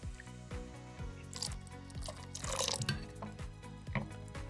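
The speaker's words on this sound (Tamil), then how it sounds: "இப்போ வந்து கொஞ்சம் தண்ணி ஊற்றிக்குவோம்." Water poured into thick rava dosa batter in a bowl, heard as continuous wet dripping, squishing and splashing, close and fairly loud, with no talking.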